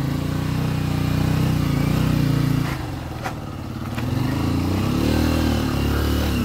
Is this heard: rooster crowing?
no